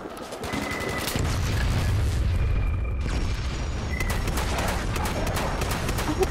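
Gunfire in the Fallout 76 video game: a dense, sustained burst of rapid shots and booming blasts, loud and close throughout, with no talk over it.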